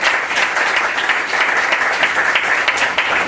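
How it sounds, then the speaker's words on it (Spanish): An audience at a legal forum in Lima applauds a guest, a dense, loud, steady roar of clapping sustained for a few seconds without pause. "con fuertes aplausos."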